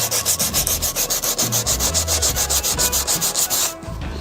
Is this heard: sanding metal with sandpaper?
yes